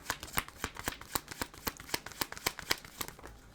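A tarot deck shuffled by hand in quick, evenly spaced riffles and snaps, about a dozen crisp close card strikes in a steady rhythm, with no voice over them.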